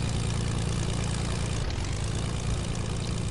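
A propeller plane in a video game drones steadily and loudly throughout, a dense unbroken engine roar with a strong low throb and no voices.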